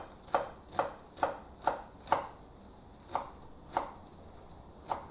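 A knife chops chilies of mixed sizes on a board for an Asian greens stir fry: about nine crisp, evenly spaced thwacks, close and clear against a quiet room.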